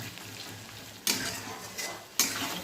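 Mustard paste masala sautéing gently in a pan on low heat, a quiet sizzle with two sharp spatula scrapes.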